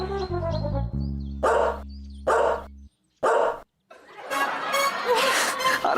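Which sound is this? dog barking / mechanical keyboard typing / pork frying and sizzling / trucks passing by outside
dog barking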